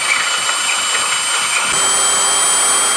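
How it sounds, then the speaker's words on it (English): A power drill grinds steadily through 5/16-inch steel plate without lubricant, a harsh high-pitched whine with steady mechanical rattle, close and loud throughout. "Drilling through 5/16 plate steel."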